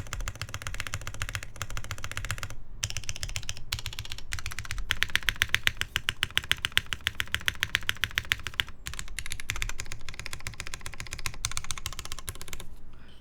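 Fingers type quickly on a custom mechanical keyboard with a soft plate, producing a dense, continuous patter of muted clacks with a few louder bursts, heard close and without talk.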